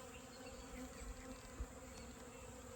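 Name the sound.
honeybees buzzing at a beehive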